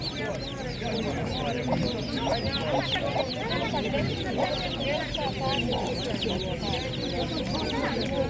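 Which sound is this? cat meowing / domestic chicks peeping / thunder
domestic chicks peeping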